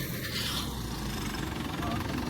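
A red tractor engine running in a farm field during sowing, a continuous low rumble at moderate distance, steady throughout, ending with a brief knock.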